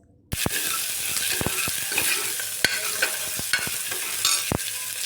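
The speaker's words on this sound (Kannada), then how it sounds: "ಒಗ್ಗರಣೆಯಲ್ಲಿ ಫ್ರೈ ಮಾಡ್ಕೋತಾ ಇದ್ದೀನಿ" Whole spices tempering in hot oil for a mutton boti gravy, a steady close sizzle and crackle after a sudden start, broken by sharp clacks of a spoon stirring against the pan.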